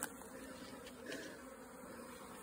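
Honeybees drone in a steady, continuous buzz close by at a hive, with a few individual insects swelling slightly louder as they pass.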